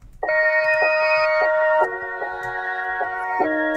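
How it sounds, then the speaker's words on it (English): An ambient trap melody loop from FL Studio 20, bounced and pitched up six semitones, with bright synth chords starting and shifting every half second or so, a sharp, thin and slightly harsh tone, heard alone and fairly loud. "I pitched it up 6 semitones, so it sounds like this now."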